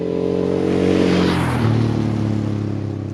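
A Honda Transalp 600 motorcycle, carbureted and cable-throttled, runs close by with a strong, humming engine note that revs and then drops in pitch, with no voices over it.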